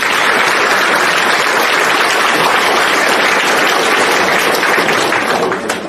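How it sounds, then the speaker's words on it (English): A loud, dense round of audience applause at a school athletics awards show, many hands clapping steadily for nearly six seconds and tapering slightly at the very end. "so let's give them a round of applause"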